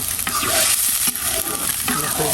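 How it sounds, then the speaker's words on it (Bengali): Sour rice (tok bhaat) with lentils and mango coming to a boil in a pot, a dense bubbling, sizzling texture with occasional stirring scrapes, close and steady throughout. "টক ভাত রান্না করতেছে, দেখা যায় যে বলক চলে আসছে, টক ভাতে বলক চলে আসছে।"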